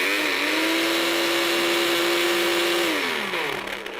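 A kitchen blender whisks egg yolks with half a lemon, a steady loud motor whine that holds pitch for about three seconds before winding down as it slows, close up with no talking.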